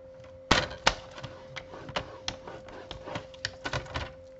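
Paper card being folded and creased at evenly spaced marks, heard as a series of sharp close taps and crisp creasing snaps of varying loudness, with no talking.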